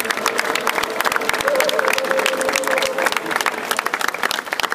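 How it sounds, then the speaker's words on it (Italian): Audience applause fills a hall at a scout group's 90th anniversary celebration in Roncade, a dense, steady clatter of many hands with faint voices mixed in underneath. "Io farei veramente un applauso a tutti chi ci ha preceduto."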